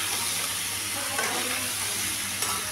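Spice masala being stirred and fried in a pan, a dense, steady sizzle with soft scraping strokes of the spoon, close and continuous without speech.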